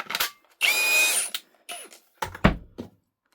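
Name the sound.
power drill mixing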